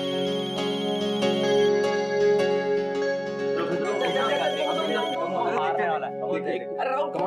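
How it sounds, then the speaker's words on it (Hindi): A mobile phone ringtone plays a bright, repeating melodic pattern at close range for several seconds, then voices begin talking over it as the ring continues underneath. "शायद तेरा फोन आया।"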